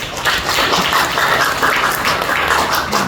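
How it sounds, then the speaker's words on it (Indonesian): An audience at a village road-paving outreach meeting breaks into steady, dense applause, many hands clapping together continuously throughout. "Aplaus untuk beliau sudah."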